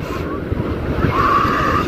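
Sea waves wash onto the sand at Playa San José, a steady broadband roar with gusty wind buffeting the microphone, rising slightly in the second half, with no talk over it.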